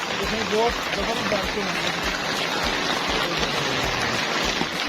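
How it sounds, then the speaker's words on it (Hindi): Steady rain hisses evenly throughout, with faint voices murmuring beneath the downpour. "बारिश भी हो रही है"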